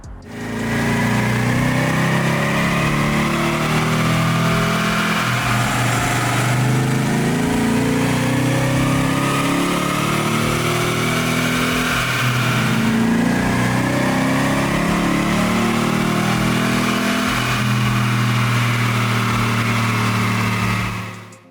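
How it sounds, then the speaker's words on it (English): A 2016-or-later Nissan Titan fitted with a Z1 Off-Road A61 cold air intake roars steadily on a dyno, the loud engine holding a sustained rev with rising and falling pitch sweeps and a brief dip midway. "Let's throw it on the dyno and let's see what kind of numbers we can get"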